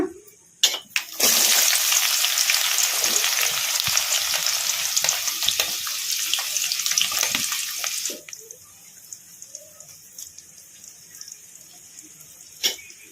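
Sliced onion, green chili and curry leaves hit hot oil in a pan for a loud, bright burst of sizzling that holds steady for several seconds, then drops sharply to a quieter crackle with a few clinks.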